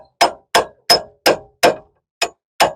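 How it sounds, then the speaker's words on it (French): Hammer striking a metal ball joint separator while removing a Citroën C4 Picasso suspension control arm: seven sharp, ringing metallic blows at a steady, roughly half-second rhythm, loud and close with silence between. "tu tapes au marteau"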